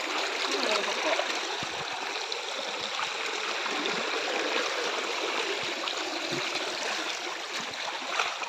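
A shallow stream of water flows and burbles nearby, a loud, steady rushing trickle that continues without pause, with no voices over it.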